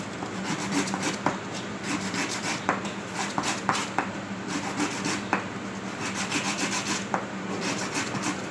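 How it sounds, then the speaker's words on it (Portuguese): Sandpaper rubbing over a wooden capsule that holds a fire-starting kit, a steady close rasping scrape with irregular strokes and small knocks running throughout, no talking. "Então vamos dar uma lixada agora."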